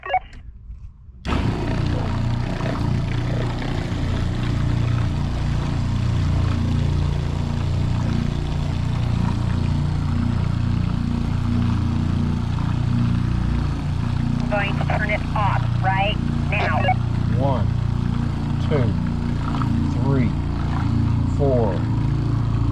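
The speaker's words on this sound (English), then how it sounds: "I'm at the kitchen sink, turning it on now." An RV kitchen sink faucet runs steadily under a continuous broadband rush of water and the droning hum of a Shurflo pump, loud and unbroken throughout after a brief quiet start.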